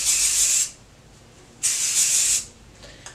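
Two short bursts of hair spray hiss up close, each lasting under a second, separated by a brief quiet pause.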